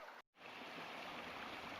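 Water from a mountain creek rushes in a steady, close, broadband wash after a brief dropout at the start, with no voices.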